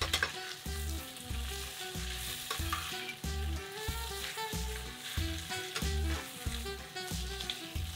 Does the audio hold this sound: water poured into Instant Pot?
no